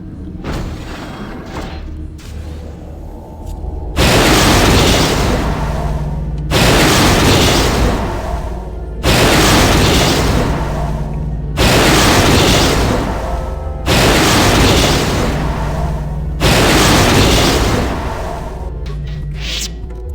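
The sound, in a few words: Star Forge exploding in KOTOR video game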